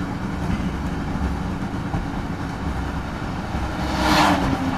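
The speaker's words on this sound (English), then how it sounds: "Oh, it's a train there." A train passing near a rail bridge, a loud continuous rumble with rhythmic clatter, swelling toward the end as it draws closer.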